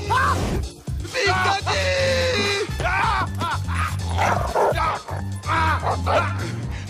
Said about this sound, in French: Big Daddy, rappelle ton chien, s'il te plaît!